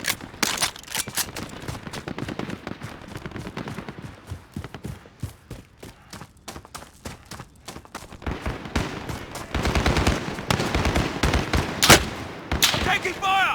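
Rapid, repeated video game gunfire crackles through a shooter match played with a Steam Controller, dense bursts of shots continuing throughout at close range with occasional loud peaks and some voices mixed in.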